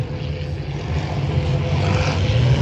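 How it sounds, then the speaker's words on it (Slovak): Propeller aircraft flying at an airshow in Košice during a mock dogfight between a Slovak and a Soviet plane, heard as a loud, steady engine drone that slowly builds. "Teraz slovenské lietadlo zostrelilo sovietské."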